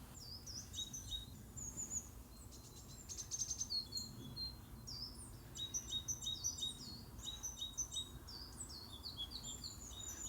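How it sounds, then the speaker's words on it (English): Several small birds sing in woodland on a misty morning, bright repeated chirps and trills coming in quick clusters over a faint low rumble, at moderate distance with no talking. "There were some birds singing here just now."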